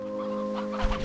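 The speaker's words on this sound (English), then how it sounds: "all the hens are like also escaping from the pen as well" Hens cluck in the farming game Slime Rancher 2, short excited clucks rising near the end over a steady tonal game-music backdrop.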